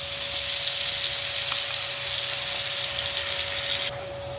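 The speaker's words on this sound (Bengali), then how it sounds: "মশলাটা একটু সময় কষিয়ে নেই" Spices fry in a pan with a loud, steady sizzling hiss that continues evenly throughout, a faint tone humming underneath and no talking.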